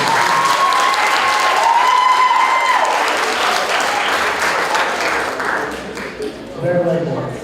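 Audience applause at a debate competition, a broad, sustained clatter of many hands that thins toward the end, with a voice talking over the start and a brief swell near the close.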